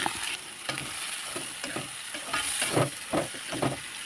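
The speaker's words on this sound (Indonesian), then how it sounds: "langsung ini aku mau tumis irisan bawang sama daun bawang ya" Sliced shallots, spring onion and tomato sautéing in oil, with a continuous close sizzle and rhythmic stirring scrapes that swell briefly toward the end.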